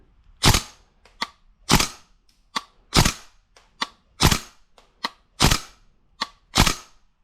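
Airsoft gun shots hitting a target, with a regular series of sharp snapping cracks about every half second to second, each followed by a fainter impact tick, close and loud, with no talking.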